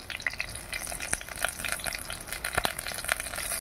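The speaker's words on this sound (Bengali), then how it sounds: "প্রথমে পটলটা ভেজে নেব। তো পটল ভাজাটা আগে চাপিয়ে দিলাম।" Pointed gourd fries in oil in a wok over a clay stove, a soft continuous sizzle broken by scattered sharp crackles and pops, quiet and close with no voices.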